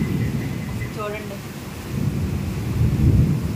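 Thunder rolling through a midnight thunderstorm with rain, a deep sustained rumble over steady rainfall that swells toward the end, with a voice briefly speaking.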